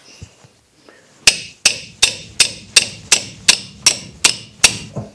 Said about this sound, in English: sometimes they're a bit tactical to get off, and sometimes you got to really give them some smacks